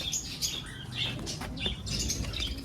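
Pigeons flutter and flap their wings nearby with scattered chirps and soft calls over a busy background.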